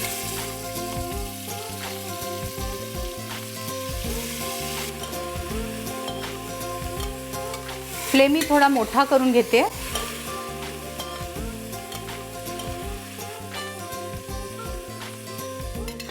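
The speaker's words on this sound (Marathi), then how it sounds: "आता ह्याच्यात आपण हे मॅरिनेटेड चिकन घालून परतून घेऊया" Marinated chicken for a quick pressure-cooker chicken biryani sizzles steadily as it is stir-fried in the cooker, with a louder burst of spattering and scraping midway and a brief spoken remark over the frying.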